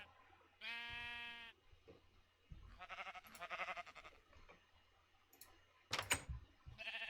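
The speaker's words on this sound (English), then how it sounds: "Maybe that's the sheep from before." Minecraft sheep bleat several times in short wavering calls, spaced apart between quiet game sounds and a few clicks, fairly soft overall.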